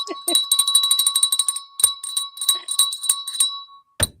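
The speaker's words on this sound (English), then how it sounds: "now that the bell has been rung" A bell is rung in a rapid flurry of bright, ringing strikes that trail off, then returns with one final clang, with brief vocal sounds at the start.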